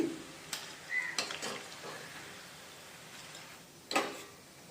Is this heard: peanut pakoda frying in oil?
yes